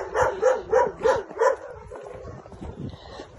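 A mother dog with puppies gives four rhythmic, evenly spaced barks up close, then falls into softer whimpers and low rustling movement.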